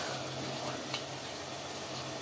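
Vegetables frying with sago and fried peanuts being stirred in a pan: a faint, steady sizzle with soft scraping throughout, no talking.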